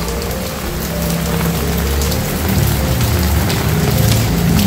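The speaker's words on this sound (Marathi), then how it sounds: "सकाळपासून पाऊस आहे" Heavy rain falls beside a house, a loud and constant patter of drops on nearby surfaces, steady throughout with no talking.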